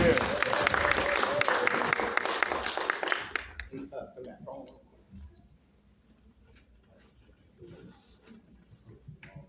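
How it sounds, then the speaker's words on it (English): Crowd applause for speakers coming to the stage, a dense burst of clapping for about three and a half seconds that stops abruptly, followed by quiet room noise and faint talking. "Clap it up for these brothers as they come to the stage."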